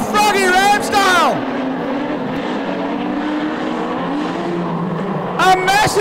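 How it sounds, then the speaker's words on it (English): Modified production race cars at Lismore roar past, one crashing into and ripping down the catch fence; loud engine and tire noise runs throughout while an excited commentator talks over the start and end. "A massive crash. And has ripped down half the catch fence."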